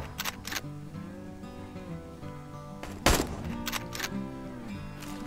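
Several sharp gunshot bangs in the video game American Marksman ring out over background game music, a couple early and a louder cluster around the middle, each with a brief tail.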